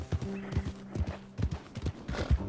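Hooves of a new horse in a video game clip-clop in a steady walking rhythm, close and clear, with a brief faint whinny-like tone and low background sound.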